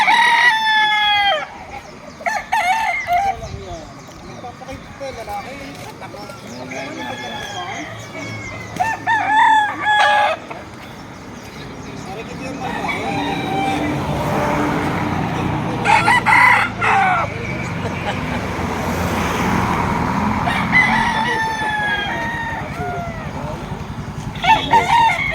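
Roosters crow again and again at a market selling fighting cocks in Barangay Lucsuhin, Alfonso, Cavite. The calls come from several birds at different distances, with clucking and general crowd bustle between them and scattered voices in the background.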